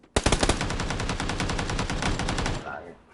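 Rapid automatic gunfire in the PUBG video game on PS4, a dense burst of evenly spaced shots lasting over two seconds, loud and close, then cutting off abruptly.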